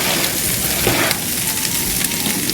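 Carne al pastor sizzles steadily in a hot pan with bell peppers and onions, a dense, continuous frying hiss that stays close and even throughout.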